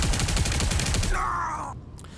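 Rapid bursts of weapon fire from the Bombard mode of a hero in the Marvel Rivals video game, a dense, loud volley followed by a sustained whooshing blast that cuts off abruptly.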